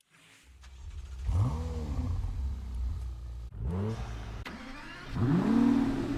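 A car engine in the Fortnite video game revving in repeated rising surges, close and fairly loud, with brief gaps between pulls and no talk over it.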